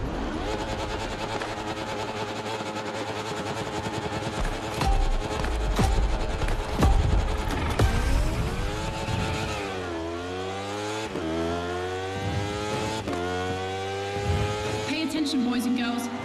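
Racing car engine from The Crew Motorfest, revving and shifting through rising and falling gears at close range, loud and continuous with tire noise, under music and a voice talking.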